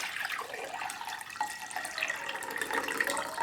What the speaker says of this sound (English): you can just put this down your sink